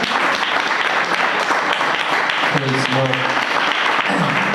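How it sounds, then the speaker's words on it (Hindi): A congregation claps during a Sunday service at Voice of God Church in Balrampur, a loud, sustained wash of hands that runs the whole time while a voice comes in over it partway through. "क्या आप परमेश्वर की महिमा के लिए ताली बजा सकते हैं?"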